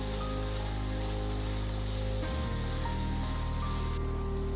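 Onions with salt sauté in a pan, a steady close sizzle running throughout under a constant background hum.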